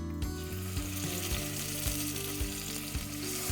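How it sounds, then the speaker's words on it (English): Bear meat searing in a preheated cast iron pot with lime olive oil over a medium-high fire, a loud continuous sizzle broken by regular soft clunks and scrapes of the pieces being moved. "now I'm going to start searing this wonderful bear meat in preparation for our braise"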